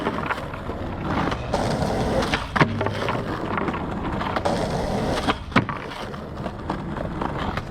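A skateboard rolling on pavement while attempting a 50-50 grind, with a continuous rumbling roll broken by a couple of sharp clacks and scrapes from the board hitting and catching an edge, fairly close.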